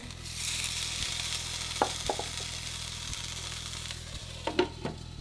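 Marinated chicken breast cooking slowly in a pan over low heat, with a soft, steady sizzle beneath a rhythmic low hum and a few light utensil taps near the end.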